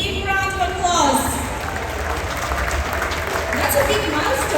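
Applause from a crowd at an onboard cruise ship event, a broad wash of clapping with people talking and cheering over it, steady and fairly loud throughout.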